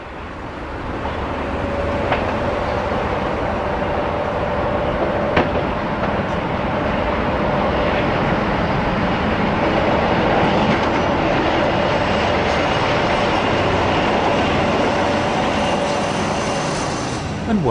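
A Class 47 diesel locomotive drones and rumbles as it passes, leaving Eastleigh at speed, a sustained, fairly loud roar with a low hum that swells and holds.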